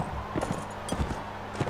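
Horse hooves in the video game Mount and Blade: Warband, a quick run of soft clip-clop beats at irregular intervals over a steady low background, moderately close.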